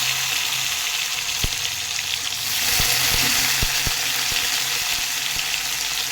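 Cashews and raisins sizzle in hot oil after tempering, with a steady close frying hiss and a few sharp taps of a stirring spoon against the pan.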